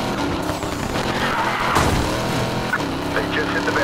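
Police cars crash into barricades during a chase in Need for Speed Payback, heard as loud continuous engine roar and tire skidding with a sharp impact burst midway, under game music and radio-style voices.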